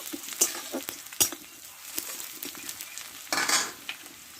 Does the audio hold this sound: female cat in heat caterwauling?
no